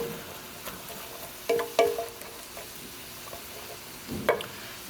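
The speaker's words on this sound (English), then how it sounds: "I can hear it sizzling. Give it a little stir." Onion mixture sizzling softly in a pan on the stove, a low steady frying hiss broken by a few louder clinks and scrapes as it is stirred.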